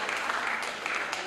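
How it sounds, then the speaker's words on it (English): An audience claps at a women's organization tribute event, a short burst of steady applause at moderate volume with no one speaking over it. "her mother deserves a round of applause"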